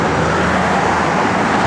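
A 1972 Chevrolet K5 Blazer CST truck with a 350 engine and Edelbrock 4-barrel carburetor drives along, giving a steady, loud broadband road and engine rumble with no pauses.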